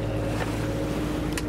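A sailboat motoring under engine power in tropical waters, giving a steady low engine hum with a tonal drone, wind and water noise around it and a brief splash or knock near the end.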